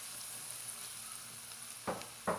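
Boneless chicken frying in a pan gives a steady, faint sizzle with no talk, and two short louder bursts of crackle near the end as the pieces are stirred.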